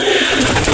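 Pigeons coo softly amid a dense, hissy background, the low throaty calls blending into a continuous murmur.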